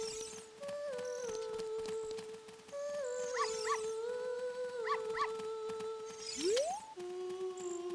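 Scottish terrier dogs in Zelda: Ocarina of Time give high, tonal yips and howl-like cries, repeated in short bursts with a rising whine near the end over steady game background ambience.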